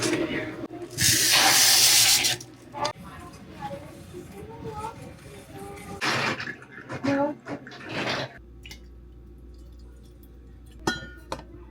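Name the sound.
water pouring for pour-over coffee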